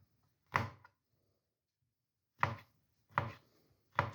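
Champignon mushrooms chopped on a board with a knife, four crisp, close thuds separated by uneven pauses, the first one alone and the last three coming in quicker succession.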